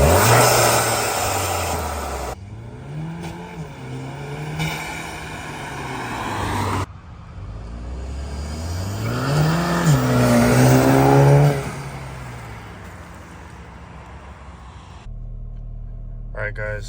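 A 2020 VW GTI MK7.5 S with a CTS turbo inlet pipe idles and revs. The engine note climbs and falls in swells, heard close inside the car, and someone talks over much of it.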